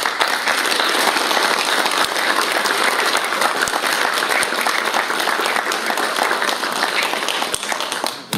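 Audience applause at an award ceremony in Mazovia, Poland: a dense, loud, sustained ovation of many people clapping, steady for about eight seconds before easing slightly at the end.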